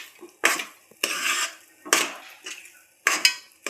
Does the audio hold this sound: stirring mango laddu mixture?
yes